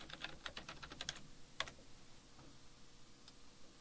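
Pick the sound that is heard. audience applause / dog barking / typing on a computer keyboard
typing on a computer keyboard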